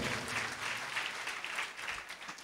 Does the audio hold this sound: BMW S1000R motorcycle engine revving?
no